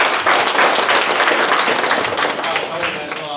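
An audience at a political rally applauds, a dense wash of clapping from a crowd that tapers off slightly toward the end, with voices mixed in.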